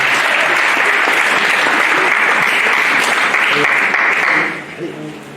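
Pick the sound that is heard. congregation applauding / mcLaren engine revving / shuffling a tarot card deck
congregation applauding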